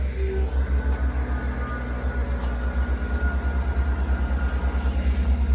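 A Class 158 passenger train pulls out of a station in Devon, its diesel engine giving a steady low rumble with a rhythmic pulsing throb that carries on throughout, heard alone without talk.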